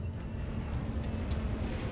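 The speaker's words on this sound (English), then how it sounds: "The sound at first was just a normal airplane flying above." A normal airplane flying above houses in Queens, New York: a steady, broad engine roar, constant and moderately loud, with no other sounds over it.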